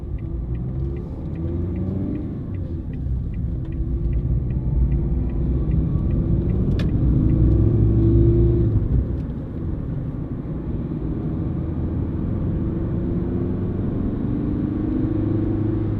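Interior of a Ford Fiesta 1.4 TDCi three-door panel van with a five-speed gearbox while driving: a steady low diesel engine and road rumble that swells briefly, then settles; no talking.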